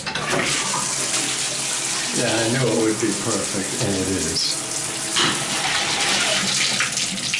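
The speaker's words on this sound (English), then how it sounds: "I'm just going to turn on the water here and show you that the water pressure is very good" Tap water runs steadily in a strong, high-pressure stream in a bathroom while someone speaks briefly over it.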